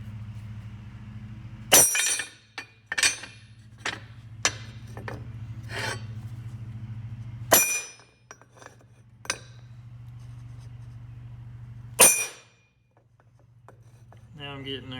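Old bearing being driven out of a wheel hub with hand tools, sharp metallic hammer strikes landing irregularly over a low steady hum, a few loud ringing blows among softer taps, with a person talking in between.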